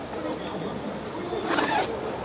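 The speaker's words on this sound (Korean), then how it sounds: "여기도 지퍼도 있어서 이렇게" A zipper on a fishing tent rasps open in one continuous pull amid steady rustling and background noise.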